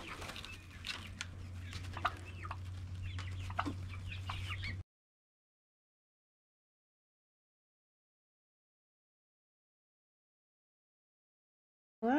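Baby turkeys meet chickens on a homestead: soft clucking and chirping poultry calls over a low steady hum for a few seconds, then silence before a brief return of sound at the end.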